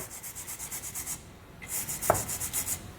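Threaded weld nuts inside a pickup's steel bumper beam being cleaned out with a brush, giving rapid rhythmic scrubbing strokes, close and fairly loud, pausing briefly midway before resuming with a sharp metallic tick.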